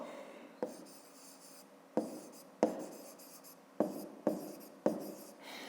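A pen writes by hand during a fifth-grade math exercise, with quiet, close scratching strokes and about seven sharper taps scattered over a faint room hiss, with no voices.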